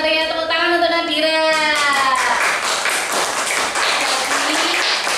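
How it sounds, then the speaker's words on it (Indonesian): Children in a classroom clap their hands in a quick burst after a voice, the clapping continuing as scattered, close hand claps with talk at the start. "tepuk tangan untuk Nadira"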